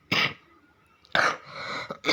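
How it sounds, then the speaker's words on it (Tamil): Three harsh coughs from someone who is ill, each a sharp burst with short gaps between them, close and fairly loud, with no talking. "உடல்நிலை கொஞ்சம் சரியில்லை, அதனால் கொஞ்சம் இருமல் இருந்துகிட்டே இருக்குது."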